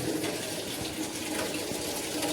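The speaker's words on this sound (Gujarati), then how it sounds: "એ અત્યારે શાકભાજી ધોઈ છે" Vegetables washed under running water at home, a steady close hiss and patter of flowing water with small splashes throughout, no voices.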